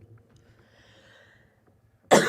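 A single abrupt cough bursts in loud and close at the very end, after near-silence with a faint low hum.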